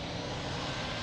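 An aircraft's engines roar in a steady, dense rumble during takeoff from runway 02 at Lisbon Airport, heard alone and at an even level.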